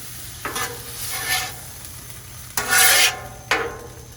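Seared scallops with toasted sesame oil being stirred and scraped around on a Blackstone griddle, a few scraping strokes over a steady sizzle, close by.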